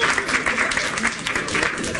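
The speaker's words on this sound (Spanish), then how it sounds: "un aplauso al maldito manzanero" Studio audience applause on a Mexican comedy-variety show, dense and continuous clapping with crowd noise and voices mixed in, loud and close throughout.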